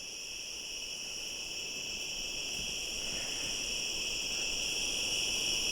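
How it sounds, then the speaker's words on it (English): Crickets chirp at night in the Point Pelee cemetery, a dense, continuous high trilling chorus that stays steady and fairly loud throughout, with no voices. "there's a lot of crickets and frogs"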